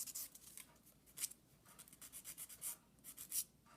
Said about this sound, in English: So I'm just sanding the glue.